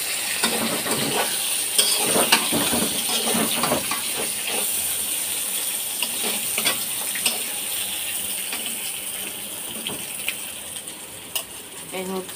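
Spiny gourd (kakrol) frying in a pan, with a continuous hiss and crackle of oil, repeated scraping and stirring of a utensil against the pan, and occasional sharper pops and clinks heard up close.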